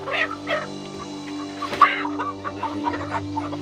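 Hens cluck in short, uneven bursts close by, with a steady low hum underneath and one sharper squawk midway.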